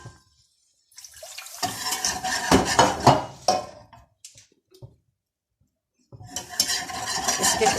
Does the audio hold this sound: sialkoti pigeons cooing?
no